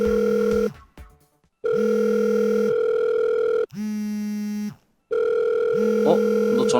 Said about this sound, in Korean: 너 전화 온 거 같은데?